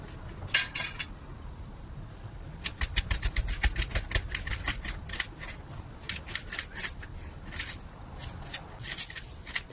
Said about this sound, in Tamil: நாம வெங்காயத்தையும் பூண்டையும் நல்லா பொடிசா கட் பண்ணிக்கலாம்.